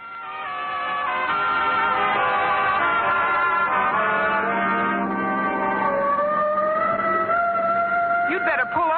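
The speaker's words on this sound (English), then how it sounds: "Oh, the siren. No, that's on our car." Wailing car siren in an old radio comedy, a rising and falling tone sustained loud through the whole stretch with voices talking over it.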